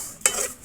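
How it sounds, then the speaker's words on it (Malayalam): A spoon or spatula stirring tapioca flour as it dry-roasts in a pan, with a brief scraping burst in the middle of an otherwise quiet stretch. "നമ്മൾ ചീനി മാവ് വറുക്കുകയാണ്"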